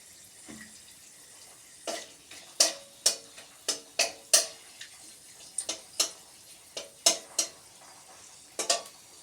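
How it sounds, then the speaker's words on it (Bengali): Whole spices, two cardamom pods, a clove and cinnamon, hit hot oil in a kadai while tempering for a vegetarian dal, giving a string of sharp crackles and pops amid soft frying hiss and occasional utensil clinks. "এবার আমি ফোড়ন দেবো দুটো এলাচ একটা লবঙ্গ আর দারচিনি"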